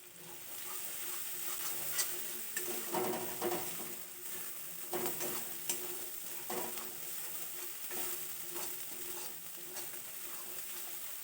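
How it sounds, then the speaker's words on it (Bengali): Crab being stirred and fried in coconut milk in a pan, a steady sizzle under repeated scraping stirs of a spoon, close and moderately loud with no talking. "নারকেলের দুধ দিয়ে আর একটু সময় নাড়াচাড়া করে কষিয়ে নেবো"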